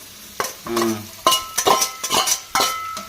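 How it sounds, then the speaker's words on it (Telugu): Potato pieces frying in a pan with green chillies and onions, stirred in quick scraping strokes, with loud close sizzling bursts and clinks of a utensil against the pan. "పచ్చిమిరపకాయలు ఉల్లిపాయలు అయితే బాగా ఫ్రై అయినాయి కదండి బంగాళదుంప కట్ చేసుకున్న బంగాళదుంప వేసుకున్నాం"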